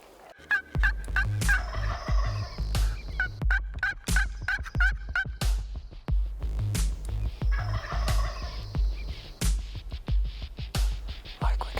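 Wild turkeys gobbling repeatedly, several birds calling and answering one another at a distance outdoors, with bursts of rough rattling gobbles across a warm spring hunting setting.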